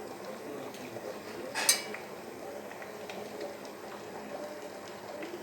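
Egg biryani gravy bubbles in a pot, a soft steady simmer with faint liquid popping and one brief clink of metal near the start, quiet and close with no talking.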